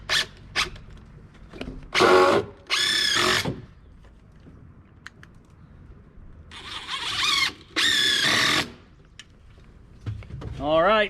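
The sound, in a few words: power drill driving screws into boards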